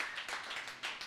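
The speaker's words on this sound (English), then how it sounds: "Round of applause for Levi Lindsay." Audience applause at a social media strategy training session, a brief burst of faint, scattered hand clapping.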